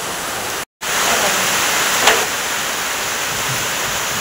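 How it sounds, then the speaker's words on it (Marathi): Dense, steady broadband hiss of heavy rain pouring down continuously, with a brief dropout near the start and no voices. "आता बघा आमच्याकडे पाऊस कसा चालू आहे, एकदम जोरात"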